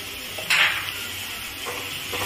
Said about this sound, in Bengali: এবার আমি এই কচুর শাকটার মধ্যে এবার ভেজে রাখা চিংড়ি মাছটা এবার আমি দিয়ে দেব।